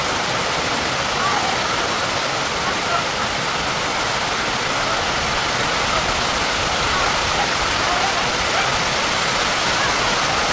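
Heavy rain falls during an outdoor kabaddi match, a constant loud hiss of water that barely changes across the whole stretch.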